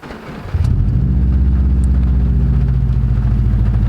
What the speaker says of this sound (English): You've got the Subaru rumble that everyone loves.